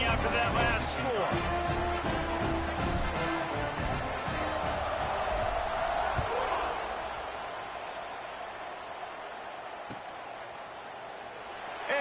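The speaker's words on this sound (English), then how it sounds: "this crowd is buzzing after that last score" A stadium crowd in the College Football 26 video game, at an SMU vs Pittsburgh matchup after a touchdown, keeps up a loud, steady roar of cheering that eases toward the end, with a commentator talking over it.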